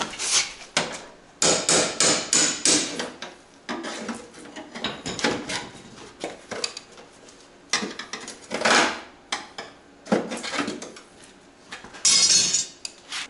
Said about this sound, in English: Using a nail puller instead of a flat bar or pry bar.